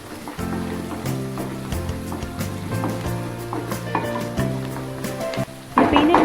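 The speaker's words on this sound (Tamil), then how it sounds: "ஸோ இதை போட்டுட்டு நல்லா அந்த ஆயிலில் ஃபுல்லாக மிக்ஸ் ஆகிற மாதிரி மிக்ஸ் பண்ணிக்க போகிறோம்." Roasted peanuts stirred in hot oil in a pan for a peanut chicken pepper fry, giving a steady, close sizzle with clinks and scrapes from the spoon, louder at the end.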